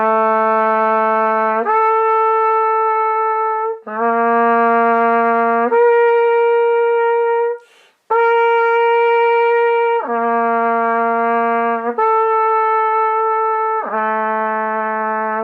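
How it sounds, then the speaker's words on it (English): Solo flute playing band exercise 128, a slow series of sustained tones that alternate between low and higher notes, clear and close, each held for about two seconds with brief breaths between, no talking. "128 for flutes sounds like this."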